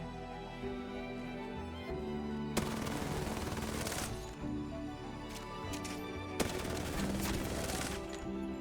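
Automatic weapon fire in Apex Legends, two sustained bursts of rapid shots over a steady low game ambience, loud and close, each burst lasting a second or two.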